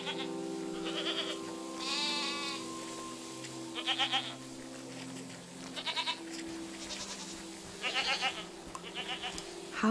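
A goat in SEASON: A letter to the future gives a string of quavering bleats at a few-second intervals, near and distinct over sustained ambient game music, with no one speaking.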